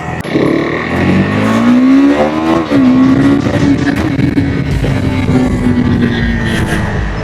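A KTM 390 Adventure motorcycle rides after a service, its engine loud and close, rising in pitch, then holding a steady drone with constant wind and road noise.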